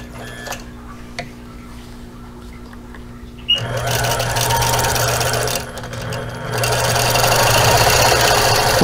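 Sewing machine quilting a Dresden Plate block, starting after a few seconds of quiet handling and running in steady loud mechanical bursts with one short pause.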